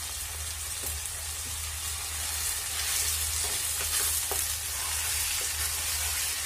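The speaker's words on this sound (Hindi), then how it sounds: "और इसको हम फ्राई कर लेते हैं सब चीज को।" Onion and ginger garlic paste frying in a pan with chicken, a steady loud sizzle with occasional stirring clicks throughout.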